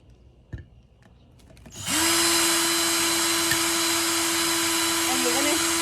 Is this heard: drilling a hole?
yes